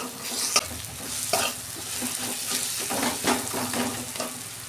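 Sliced onions with a little sugar fry in a pan, a continuous close sizzle broken by repeated scraping strokes of a spatula stirring them, no talk.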